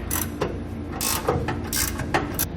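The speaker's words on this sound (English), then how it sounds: "I'm going to use a 24mm ratcheting wrench just to run these in a little bit further" A 24mm ratcheting wrench runs bolts in while fitting a B&W Companion sliding fifth wheel hitch in a Ram truck bed, giving bursts of close metallic ratchet clicking in uneven strokes.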